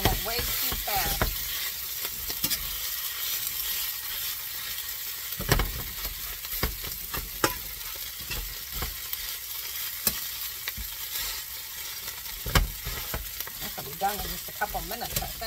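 Ham hash sizzles steadily in a hot frying pan, a constant hiss broken by occasional sharp scrapes and knocks as it is stirred.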